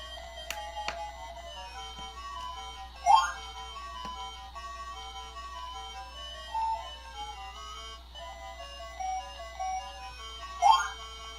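Tinny, sampled chiptune music from the Rally-X game playing on a tiny arcade cabinet, a thin repeating melody with occasional brighter blips, heard fairly faint and close with no talking.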